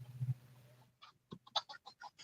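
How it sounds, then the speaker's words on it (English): Chickens squawking and shrieking in a backyard chicken coop after catching a mouse, a series of sharp, loud calls following a low hum. "I just heard screaming from the chicken coop"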